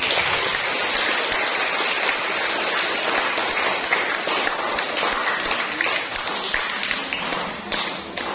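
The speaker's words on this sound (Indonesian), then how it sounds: "Berikan aplaus sekali lagi" Church congregation applauding after Sunday Mass, a dense, steady wash of many hands clapping that holds for the whole stretch and tapers slightly near the end.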